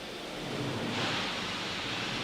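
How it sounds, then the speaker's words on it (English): Gases venting from a Falcon 9 rocket on the launch pad, a steady, broad hiss and rush that swells slightly partway through, distant and fairly faint. "those loud gases venting"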